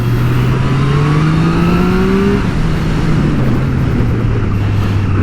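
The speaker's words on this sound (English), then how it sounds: "Maybe we'll be able to open the motorcycle up a little bit here" 2023 Triumph Street Triple 765 RS motorcycle accelerating hard, the engine note climbing steadily in pitch, then dropping briefly at a gear change and climbing again, loud and close under rushing wind.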